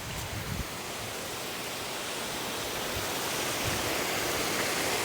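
Waterfall on Jemaja Island, Letung, a steady broadband roar of falling water that builds slightly over the seconds, close and continuous, with no voices.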